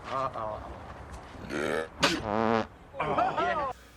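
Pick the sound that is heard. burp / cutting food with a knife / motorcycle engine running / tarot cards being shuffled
burp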